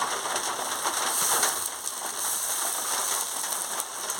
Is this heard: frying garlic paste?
yes